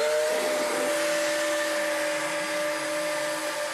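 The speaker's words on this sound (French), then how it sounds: "c'est un aspirateur, sauf que vous mettez sur le dos, parce que c'est très pratique pour les chantiers" Backpack vacuum cleaner used for meticulous cleaning of antique furniture in the Louvre museum, a steady high-pitched motor whine that runs loud and continuous throughout with no talk.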